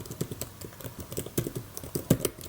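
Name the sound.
typing on a replaced MacBook Air keyboard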